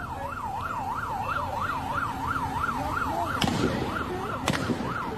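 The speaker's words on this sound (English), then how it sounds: "somebody over the goddamn Mad Butcher parking lot shooting a goddamn shotgun" Two sharp shotgun blasts ring out in the Mad Butcher store parking lot in Fordyce, about a second apart, cutting through the loud wailing siren of an emergency vehicle that runs throughout.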